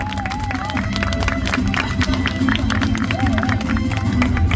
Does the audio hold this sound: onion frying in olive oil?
no